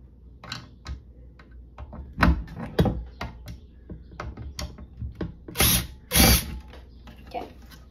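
Stop-and-start mechanical ticking and ratcheting from a power drill working a screw out of a hoverboard, close by, with a couple of brief high whirring bursts and sharp clicks between quieter moments.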